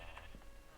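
Minecraft sheep bleat once or twice in a short, moderately loud burst over quiet background noise.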